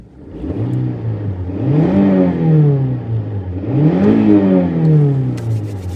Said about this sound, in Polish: Zobaczmy jak brzmi ten silnik.